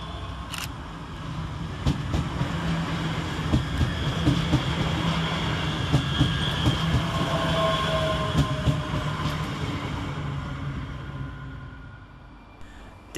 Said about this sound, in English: Rounding the corner is 385031, working the 1243 Scotrail service from Gurrock to Glasgow